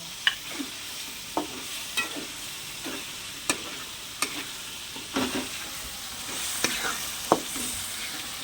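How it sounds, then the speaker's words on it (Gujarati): Onion sizzles in a hot pan with chili powder, turmeric and masala while a spoon scrapes and clicks against the metal in irregular strokes, close up, with no talk. "હવે આપણે હલાવવાનું છે."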